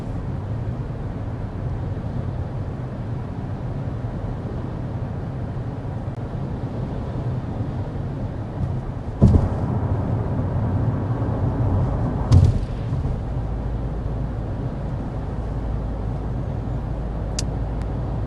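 Steady low rumble inside a 2026 Kia Sportage on the move, with the fan on speed 1, a constant road and engine hum with a couple of brief knocks partway through.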